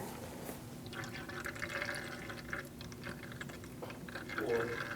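Brake fluid trickles and drips from an opened bleeder valve on a 2008-2014 Mercedes-Benz C300, a soft, steady liquid flow that is close and faint, with faint murmurs of talk in the background.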